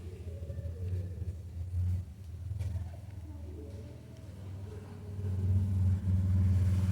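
A sewing machine stitches velvet cloth and a zipper for a purse with a continuous low motor hum that swells louder toward the end, while someone talks over it.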